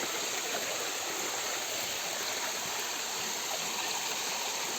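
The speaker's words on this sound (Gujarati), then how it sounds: "આ નીચે ધોધ છે" Running water from a waterfall and stream on Barda hill near Porbandar makes a dense, unbroken rushing roar, loud and continuous throughout with no voices.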